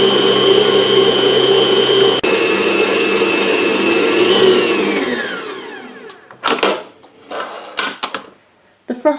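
Electric mixer whirring steadily and loud while beating frosting with sifted icing sugar for red velvet cupcakes, then winding down and stopping, followed by a few clattering knocks and bumps of the bowl and beaters.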